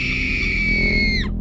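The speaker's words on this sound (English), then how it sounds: "Mr. Sleep takes out a dull knife and Kingsley screams" A woman screams in a low-budget horror film, a single sustained high-pitched cry lasting over a second before cutting off abruptly, loud and close.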